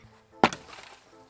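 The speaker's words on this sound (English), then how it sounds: "So we're gonna have to chop this thing down at least one board." A wooden board being chopped with a single sharp, loud whack followed by a brief splintering rattle, close by and alone with no talk, during a backyard build.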